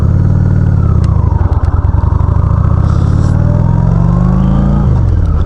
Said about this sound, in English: All of a sudden, all kinds of traffic.